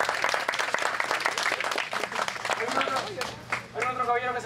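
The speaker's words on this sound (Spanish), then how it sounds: "Un aplauso para el caballero" Applause from a crowd at a traditional dance event in Oxapampa, Peru, a busy patter of clapping mixed with voices that fades as music starts to come in at the end.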